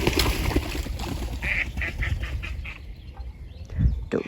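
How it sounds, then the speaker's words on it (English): Ducks quack in a quick series of nasal calls close by at a fishing spot, over an outdoor background with a low thump near the end. "ducks just flew into my line."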